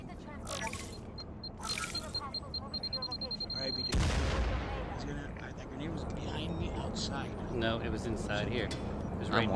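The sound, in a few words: grenade explosion in a video game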